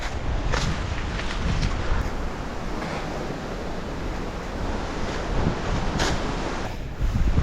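Strong wind gusting along an overgrown tropical rainforest hiking trail on St. Kitts, a loud broadband rush with buffeting against the microphone, rising and falling in gusts throughout.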